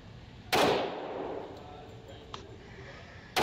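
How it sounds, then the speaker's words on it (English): Two pistol shots from a Ruger SR1911, a loud sharp crack near the start and another at the end, with a fainter click between. "So I had 2 more rounds to fire."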